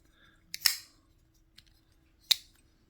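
A back spacer part snaps out with a sharp click near 0.6 seconds, a faint tick follows, and a second crisp snap lands near 2.3 seconds, all close and alone in an otherwise quiet room.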